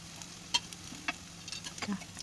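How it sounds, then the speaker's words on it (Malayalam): Banana flower cutlets fry on a low flame, giving a soft, even background sizzle in oil with a few faint pops and light crackles. "ലോ ഫ്ലെയിമിൽ വെച്ചിട്ട് വേണം ഇത് ഫ്രൈ ചെയ്തെടുക്കാൻ"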